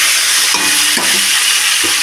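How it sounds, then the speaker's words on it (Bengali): Cauliflower pieces fry in oil with salt and turmeric, giving a loud, dense, continuous sizzle with a few soft knocks of stirring underneath; no voices. "ভালো করে বেশ লাল লাল করে ভেজে নেব।"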